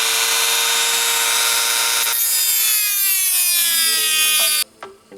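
A power saw cuts the plastic grill of a Dodge Durango RT with a loud, continuous high whine whose pitch slowly drops as the blade bogs into the material, then the cut ends abruptly.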